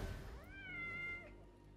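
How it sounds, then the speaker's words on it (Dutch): A single cat meows in the Assassin's Creed Mirage video game, one drawn-out, rising-then-falling call lasting about a second, quiet over low background game ambience. "Een kat."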